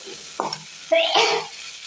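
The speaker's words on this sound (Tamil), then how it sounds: "இப்போ வதக்கி வச்சிருக்கிறேன் இன்னும் நல்லா வதங்கட்டும்" Greens sautéing in a pan for ragi adai, a close sizzle with two brief scraping stirs of a utensil over a quiet hiss.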